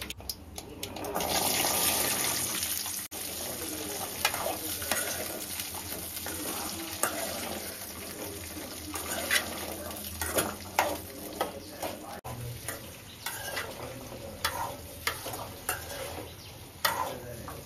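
Gooseberries sauté in hot oil with popped mustard seeds and fenugreek, a soft sizzle broken by scraping stirs and occasional clinks, fairly quiet and close, with no speech.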